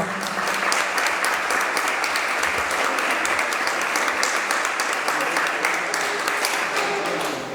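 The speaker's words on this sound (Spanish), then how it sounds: "un aplauso para ella" An audience at a socialist women's course applauds steadily for several seconds, a thick, even wash of many hands clapping at once with a few faint voices beneath.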